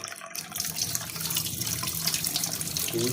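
A household water tap pours muddy water in a steady, close rushing stream into a sink, starting after a brief quiet moment and continuing without voices.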